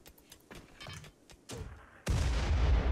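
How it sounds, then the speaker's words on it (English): Steel mortar firing in Rimworld, a few faint thuds and soft shots followed by a sudden loud heavy boom that sustains a dense rumbling roar to the end. "Kane, please man this steel mortar."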